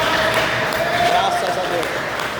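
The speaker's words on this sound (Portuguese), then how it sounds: "dê uma salva de palmas para Jesus" A church congregation applauding together, broad steady clapping filling the room, with a voice speaking over the applause.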